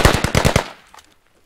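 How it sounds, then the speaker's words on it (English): Burst of automatic gunfire in the video game Squad during a fight at a mosque's west walls in Chora Valley, about six rapid loud shots followed by a fading echo tail and a few faint distant shots. "West walls, getting shot at from west walls."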